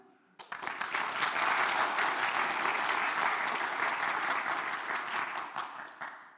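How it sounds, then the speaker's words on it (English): A conference audience breaks into a round of applause for the sponsors, starting abruptly after a quiet moment and holding as a dense, full-room wash of clapping for several seconds before tapering slightly. "since I forgot to ask you to do a round of applause during the opening session, let's do it now"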